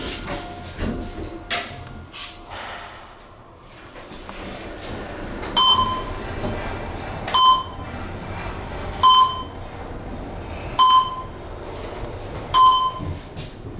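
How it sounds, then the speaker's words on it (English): A Schindler 500A traction elevator in a parking garage at the Moody Gardens Hotel sounds its floor-passing chime: five clear single dings spaced about two seconds apart over steady machinery hum and ride rumble. "Got that floor passing chime I love."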